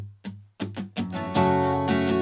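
Strummed acoustic guitar chords from the chorus of a song, a few separate strums at first, then steady continuous strumming that grows fuller and louder, close and clear.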